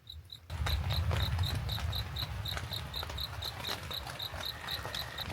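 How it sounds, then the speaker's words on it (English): A cricket chirps in a steady, evenly spaced rhythm close by at night at a campsite during a thunderstorm, over a constant rushing background. "This cricket won't shut the hell up"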